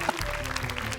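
TV studio audience applauding for team Akil on a Hafiz Indonesia Quran-recitation competition show, a steady, moderately loud burst of clapping filling the whole second with no pause.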